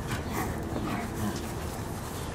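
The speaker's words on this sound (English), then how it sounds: "that growl means back off" A dog growls and whimpers while playing with a toy, producing low rumbling growls and short higher whines over steady background noise, close and moderately loud throughout.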